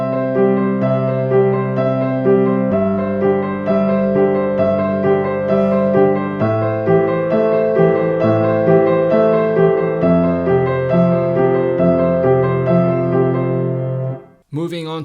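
Piano warm-up exercise in which the left hand moves at half the speed of the right, steady flowing notes over slower bass tones, played clearly and close before a brief noise at the end.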